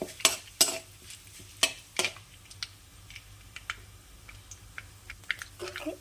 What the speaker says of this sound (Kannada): ಒಣಮೆಣಸಿನ್ಕಾಯಿ ಒಂದೆರಡು ಪೀಸು ಜೀರಿಗೆ ಕರಿಬೇವು ಸೊಪ್ಪು ಹಾಕ್ಕೊಂಡು ಫ್ರೈ ಮಾಡಿಕೊಡ್ತೀನಿ